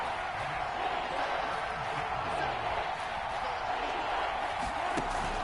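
Stadium crowd in a PS4 football video game, a steady broad roar of fans building ahead of a big third down, continuous and fairly loud with no clear individual voices.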